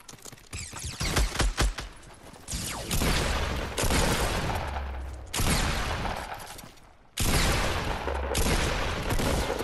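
Heavy gunfire in the video game Fortnite, loud dense bursts of automatic shots in long stretches with brief pauses between them.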